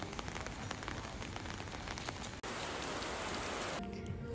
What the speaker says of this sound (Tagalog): biglang buhos ng ulan.